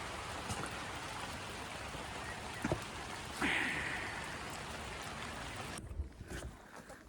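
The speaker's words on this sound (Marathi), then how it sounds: "पाऊस पण पडतोय" Rain falls steadily on a monsoon trek up Sondai Fort near Karjat, a constant hiss with a few sharper drips and knocks, before the sound muffles and drops off near the end.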